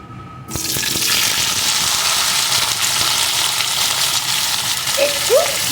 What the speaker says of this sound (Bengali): ফোড়নটা লাল লাল করে ভেজে নিয়েছি এখন এর ভিতরে আমি কুমড়োর টুকরোগুলোকে দিয়ে দেবো